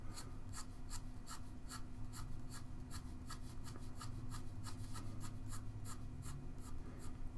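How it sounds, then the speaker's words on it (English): A 2B graphite pencil shading on paper while drawing a realistic curl, a faint, steady run of quick rhythmic scratching strokes repeating throughout, close and alone. "I'm still using my 2B pencil"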